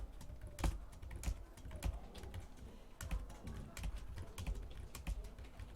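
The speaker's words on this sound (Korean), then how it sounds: "Shift 누르고 딜리트 누르면 한 줄이 지워져요" Shift and Delete keys are pressed on a computer keyboard, heard as a string of quiet, irregular plastic key clicks and taps close by, with no speech over them.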